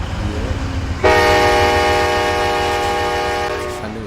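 A BNSF train in the Run 8 Train Simulator game sounds its horn loudly and steadily for about three seconds over a low rumbling rail background, then fades.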